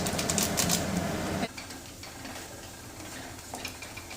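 Chicken with red chili and chicken masala frying in a pan, a loud dense sizzle with stirring clatter that drops abruptly to a quieter, steady crackle partway through.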